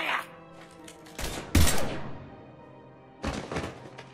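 Gunfire in Mass Effect 3, a few heavy thudding shots scattered across a few seconds with a brief burst near the middle, loud and close, over a low game hum.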